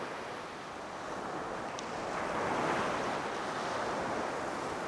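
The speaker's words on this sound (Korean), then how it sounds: "하루에도 몇 차례 바닷물이 드나드는 마을 앞 해안가." Sea waves wash steadily against a rocky shore in front of a coastal village, a broad continuous surf roar swelling slightly midway, with wind noise and no voices.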